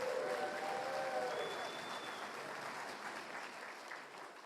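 A room full of people at a Saskatchewan government apology event applauds MP Buckley Belanger, dense steady clapping that gradually thins and fades over a few seconds.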